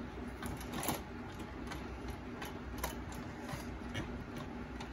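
A Consew 146 zig zag walking foot sewing machine stitches at a small stitch length, giving a quiet, even mechanical ticking and whirring that runs steadily throughout without talk.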